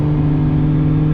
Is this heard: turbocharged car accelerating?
yes